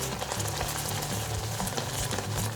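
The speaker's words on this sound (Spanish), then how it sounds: "Y removemos bien." Vegan béchamel of wheat flour and plant milk being stirred in a pan, a dense continuous bubbling sizzle with soft low scraping from the spoon, close and steady throughout.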